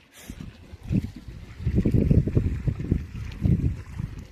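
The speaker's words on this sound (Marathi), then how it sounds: "हे बघा, या सरीला पाणी चालू आहे।" Irrigation water runs along a furrow in a vegetable plot, a soft, low gurgling trickle that swells and ebbs in gentle surges, close by and fairly quiet.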